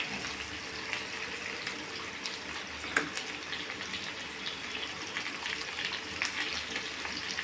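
Spinach and cucumber frying in a pan make a quiet, continuous watery sizzle with faint crackles and one sharper tick midway, heard alone without talking.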